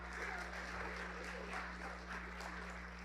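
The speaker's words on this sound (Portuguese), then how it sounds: "Aplauda o seu amigo," Church congregation clapping together during a sermon on Romans 5, a continuous dense patter of many hands heard from some distance under a steady low hum, without a break for about three seconds.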